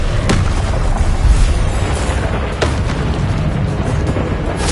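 Deep booming explosions from the Confringo blasting spell in the Hogwarts Legacy video game, a couple of sharp blasts standing out over a loud, rumbling battle wash.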